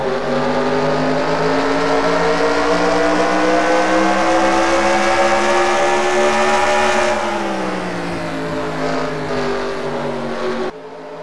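Race cars running in a three-car draft at New Hampshire International Speedway drone loudly together, their sustained engine roar shifting pitch as they hold close formation, with no speech.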